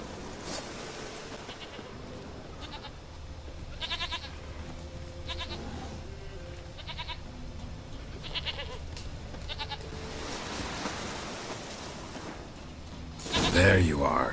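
Goat bleating in The Witcher 3 video game, several short harmonic bleats at intervals over a steady windy ambience, moderately close, ending with a louder burst near the end.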